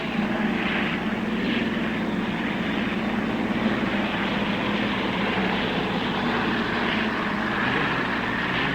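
Unlimited hydroplane racing boats at the 1960 Harmsworth Grand Prix Gold Cup roar along the backstretch in pursuit of the leader, a steady, loud, continuous engine drone with a broad rough rumble and no talk.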